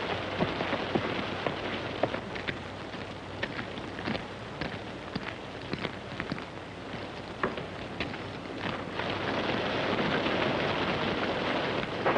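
A steady roar of heavy storm rain pours down on a surface, with scattered louder drops and a low rumble underneath, building slightly toward the end with no voices.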